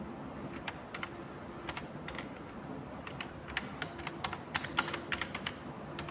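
Close, fairly quiet clicking of keys being typed on a computer keyboard, uneven taps picking up into quicker bursts of key presses toward the end.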